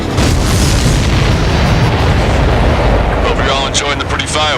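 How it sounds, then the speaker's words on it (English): A missile strikes a supply ship in the combat flight game Ace Combat 7 Skies Unknown, producing a loud sustained booming explosion with roaring rumble, with radio voices over the tail end. "The missile hit the supply ship dead on."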